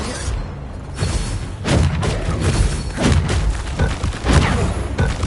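Bombarda spell blasts in Hogwarts Legacy gameplay on PS5, a run of loud booming thuds and crashes recurring every second or so amid dense combat noise, with a voice shouting spell names over it.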